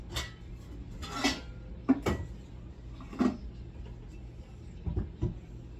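Cooking pots clank and knock as they are moved around a kitchen while applesauce made from Gala apples is being cooked, with several sharp metallic hits spread unevenly over a low background hum.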